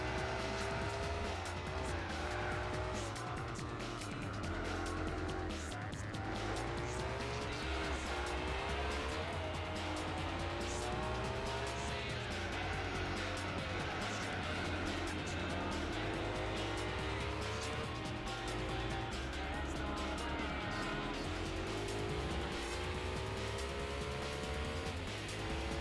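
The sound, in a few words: race car engine and tire squeal in Gran Turismo 4 video game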